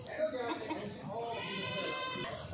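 A goat on a farm bleats in a few short, wavering calls close by, mixed with people talking over the sounds.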